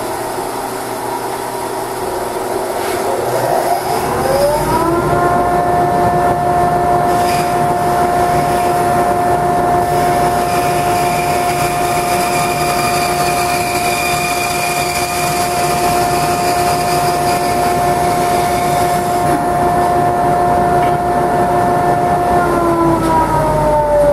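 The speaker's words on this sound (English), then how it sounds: "I switched the bandsaw to a 1/8 inch blade for the last cut." A woodworking bandsaw fitted with a 1/8 inch blade spins up and runs steadily, a loud continuous whine with a clear tonal hum held for about twenty seconds before winding down near the end.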